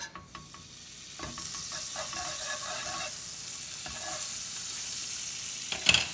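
A stacked quesadilla of tortillas and cheese sizzles softly in butter in a pan, a quiet steady fry broken by a few scraping stirs and a brief clatter near the end.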